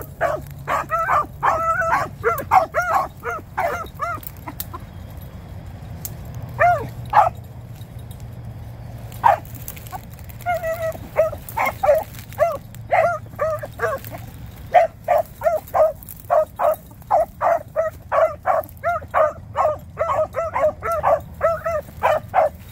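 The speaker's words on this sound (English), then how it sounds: "Just some barking when he shouldn't, that'll go away with experience" A young Dandy/Woodrow hound pup barks in repeated bursts fresh out of a starting pen, the sharp yips and bow-wows coming close and loud, with a few whimpering pauses before a steady run of barks near the end.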